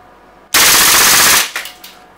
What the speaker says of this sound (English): وهلا نحن رح نقيس الـ rate of fire او الـ RPM او الـ ROF اللي هو سرعة الطلقات على الفول اوتو